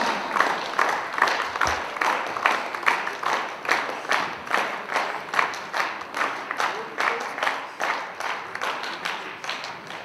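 A crowd at a Pakistan Kyokushindo karate belt ceremony claps in unison, a steady rhythmic beat of sharp, evenly spaced claps held for about ten seconds at moderate loudness.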